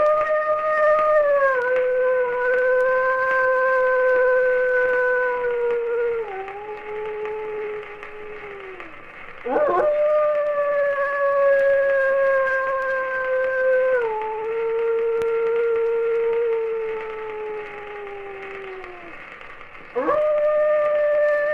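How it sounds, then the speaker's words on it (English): A wolf howl sound effect plays from a vinyl record on a turntable: three long, wavering howls that rise, hold and slide downward, each starting abruptly and separated by brief dips, alone and fairly loud. "but what caused that wolf howl?"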